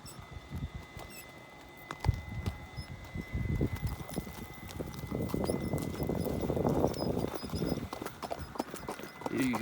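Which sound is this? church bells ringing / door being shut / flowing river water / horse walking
horse walking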